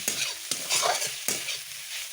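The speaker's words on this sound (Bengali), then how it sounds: "এটা হচ্ছে আলুর শাক বেগুন দিয়ে ভাজা করছে" Potato greens frying with eggplant in a pan, a steady sizzle broken by three sharp stirring scrapes, close and moderately loud with no talking.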